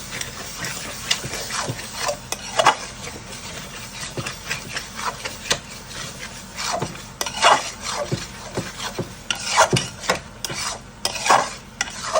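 Spices being sautéed with dried chili in a pan while a spoon scrapes and stirs in irregular strokes over a low sizzle, close by, with no one talking.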